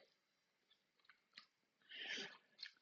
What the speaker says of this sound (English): I'm gonna take another bite of my noodles.